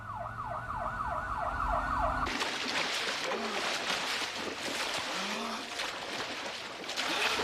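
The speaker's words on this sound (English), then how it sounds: "2 ambulances were dispatched immediately." An ambulance siren wails in a fast, repeating sweep for about two seconds, then cuts to a noisy, rushing background for the rest of the clip.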